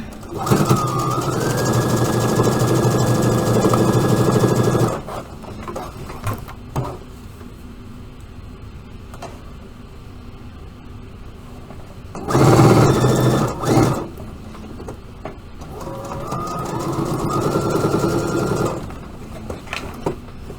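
A sewing machine stitches around a jacket neckline a quarter inch from the edge, running in two long steady bursts separated by a short burst and a quiet pause, loud and close with no talking.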